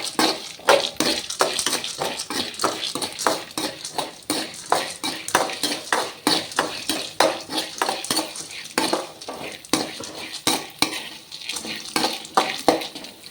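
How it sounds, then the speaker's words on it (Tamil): White urad dal frying in a pan on high flame, with a steady soft sizzle under rhythmic scraping and clinking of a metal spatula stirring against the pan, close and continuous. "லைட்டாக நம்ம கொஞ்சம் ஹை ஃப்ளேமில் வச்சுட்டு நம்ம இதை நல்லா ஃப்ரை பண்ணுறோம்."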